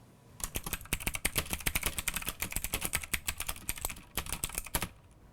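Rapid, steady clicking of keys being typed on a Motospeed CK104 clicky mechanical keyboard, close and crisp with dense bursts of keystrokes and a short pause near the end.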